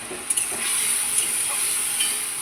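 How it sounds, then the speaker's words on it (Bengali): Spice paste of soaked turmeric and cumin powder fries in a pan, giving a brief, steady close sizzle and hiss with faint stirring touches. "এবার মশলাটা ভালো করে কষে নেব"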